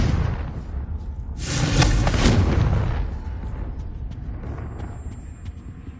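A Confringo blasting spell going off in the video game Hogwarts Legacy, a heavy booming explosion that swells into a loud roaring burst, then rumbles and fades away.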